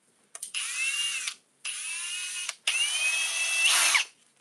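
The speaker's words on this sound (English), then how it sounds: "To drill the hole." A power drill whirs in three bursts with short pauses between, winding up and holding a steady high whine as it bores a hole, close and fairly quiet.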